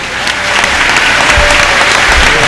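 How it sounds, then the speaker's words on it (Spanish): Loud, dense applause from a large crowd in Quibdó, Colombia, steady clapping that holds throughout without letting up. "la comunidad del Quibdó le aplaude"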